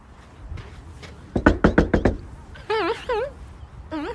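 Someone raps on a door with a quick, close burst of about six hard knocks, followed by a few wavering, sing-song vocal sounds with no clear words.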